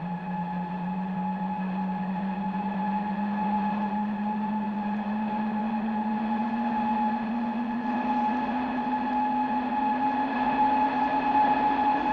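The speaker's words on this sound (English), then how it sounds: "Sounds like a freight train." A steady, loud low rumble with a slowly rising drone and sustained tonal whine from a crashing spaceship, like a freight train roaring past, with no voices.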